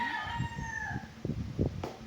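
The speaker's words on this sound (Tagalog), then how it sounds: "I'm waiting for them to crow." A rooster crows near a farmyard, its drawn-out tonal call sliding across the first second, followed by a burst of clucking and short calls from other chickens close by.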